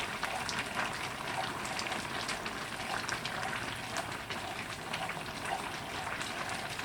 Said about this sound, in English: I'm just going to pour it in and stir.